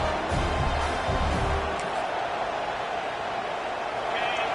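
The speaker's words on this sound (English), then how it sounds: "4th down, and this crowd trying to help this defense rise to the occasion" Dense American football stadium crowd noise swelling on a 4th-down defensive stand, a steady roaring wall of cheering that stays loud and continuous throughout.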